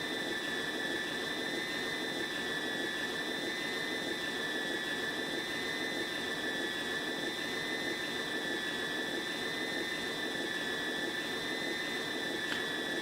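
Simulated FPV drone motors in the Uncrashed sim scream at full throttle, a constant high whine with steady pitch that runs unbroken throughout, moderately loud with no talking over it.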